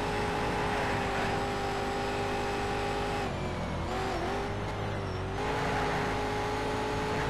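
In the Need for Speed Shift video game, a racing car engine holds a loud, high-revving drone, dipping briefly as it shifts or lifts before climbing again, with no talk over it.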